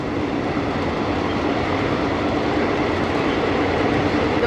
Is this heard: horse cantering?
no